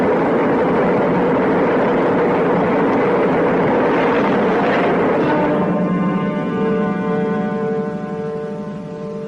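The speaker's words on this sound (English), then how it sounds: "We have ignition. All engines are running." A loud, continuous roar of rocket engines at liftoff, broad and rumbling, with rising tonal whine emerging partway through as the sound slowly fades.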